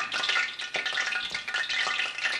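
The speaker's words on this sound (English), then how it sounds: "When it stops crackling and popping, then I know it's hot and ready to go." Hot oil crackles and pops steadily in a pan before pork chops go in, a dense continuous sizzle with irregular bursts, close and fairly loud with no talking.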